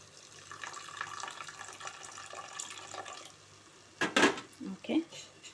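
Soaking water from meal maker soya chunks poured into a pan, a faint kitchen bustle giving way to a brief loud splash and gurgle near the end, followed by a few clinks.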